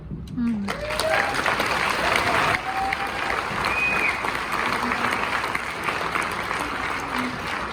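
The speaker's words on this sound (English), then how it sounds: "Give a huge round of applause for her courage and vulnerability." An audience claps for a speaker after a talk about an avalanche, giving sustained, loud applause for several seconds with a few cheers and voices mixed in.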